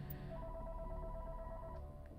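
A landline telephone rings faintly in the background, a steady repeating electronic tone held across the whole moment, low and distant beneath a dull ambient hum with no talk.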